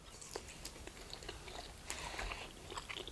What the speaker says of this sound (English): I'm gonna eat this. I think it's tofu, fried tofu.